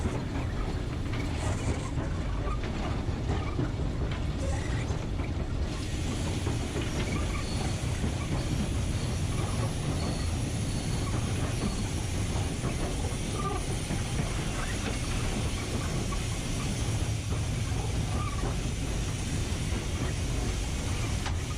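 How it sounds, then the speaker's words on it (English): Continuous rumbling and clattering of steam locomotive 44871 rolling along rails on the Swanage Railway, with rhythmic mechanical knocking and metallic rattles throughout, loud and steady. "Once past the crossing, the train travels down through wilderness and Steve sounds the whistle"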